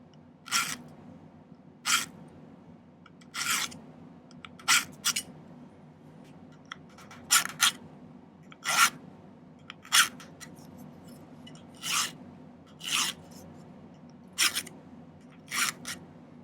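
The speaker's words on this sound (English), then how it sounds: "I'm going to file a notch" Short, sharp rasping strokes of a file cutting a notch in silver for a ring, about a dozen spaced irregularly, each a crisp scrape over a faint low background hum.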